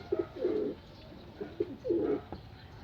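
Racing pigeons cooing nearby in two short bursts of soft, rolling coos separated by a pause, fairly quiet with no speech over them.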